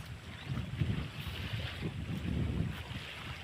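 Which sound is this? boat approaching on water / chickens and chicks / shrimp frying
boat approaching on water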